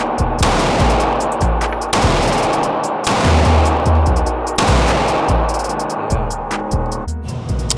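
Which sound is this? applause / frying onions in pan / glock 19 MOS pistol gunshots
glock 19 MOS pistol gunshots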